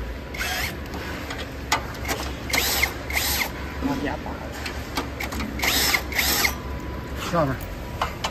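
A power tool removes screws from a Curve treadmill in repeated short whirring bursts of drilling, close by, with people talking over the work.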